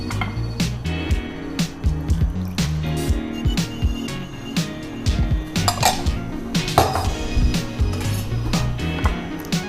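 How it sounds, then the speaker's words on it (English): Soy sauce, sesame oil and chili oil being mixed in a bowl for gyoza dipping sauce, with rapid, irregular clinks and taps of a utensil against the dish, close and busy throughout. "just mix together all ingredients"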